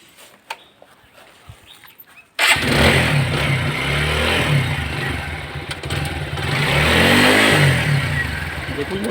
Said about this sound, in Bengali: এবারে আমি বাইকটা স্টার্ট দিয়ে আপনাদেরকে সাউন্ড শোনাচ্ছি।